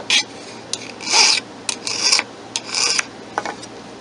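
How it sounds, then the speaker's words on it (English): A hand metal file rasps a burr off a kitchen utensil blade, several short scraping strokes in an uneven rhythm, close and fairly loud with no talking. "I want to take this little burr off, and I think I'm going to do that real quick with this file"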